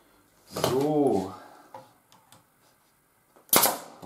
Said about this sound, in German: Ja, drei Tackernadeln sollten genug sein.